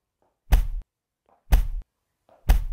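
A group stomps their feet three times together, heavy low thuds landing about a second apart, each preceded by a faint murmur of voices.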